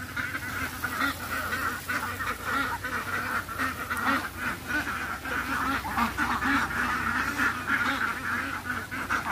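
Dense flock of ducks at a fish pond, many overlapping loud quacks and honks forming a constant raucous chorus close by, with no talk over it.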